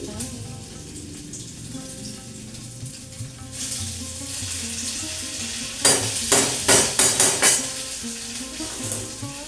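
Dalia (broken wheat) and grated ginger frying in a pan, a low sizzle that swells after a few seconds, then a run of sharp rhythmic stirring scrapes and clatters near the end.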